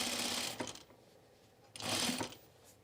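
A sewing machine stitches a button-down shirt in two loud, steady runs of rapid whirring, separated by a short pause.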